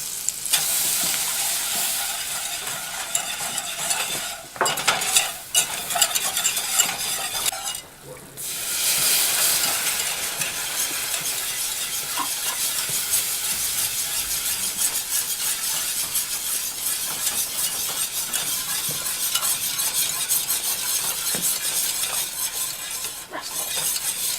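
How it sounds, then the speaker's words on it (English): Butter and flour sizzle steadily in a pan over medium heat while a utensil stirs the roux, a continuous close frying hiss with scraping strokes and a brief dip partway through, no talking. "We will start by melting 2 tablespoons of butter over medium heat."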